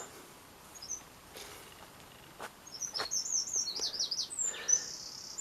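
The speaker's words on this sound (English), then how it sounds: "the birds are beginning to sing again" Wild birds chirp and twitter in short, high, overlapping phrases, getting busier toward the end, heard at a moderate distance over a quiet outdoor background with a few soft knocks.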